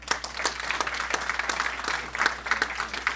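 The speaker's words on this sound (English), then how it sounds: "Give them a round of applause" Audience applause at a press conference on housing for SJSU students and faculty: dense, steady clapping from a crowd, fairly close and loud, with no voices over it.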